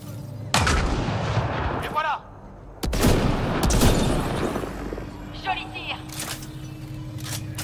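Gunfire from the video game Mass Effect Andromeda, with heavy shots and bursts cracking close and loud in a combat scene, a few sharp reports breaking through a dense, continuous battle din with speech mixed in.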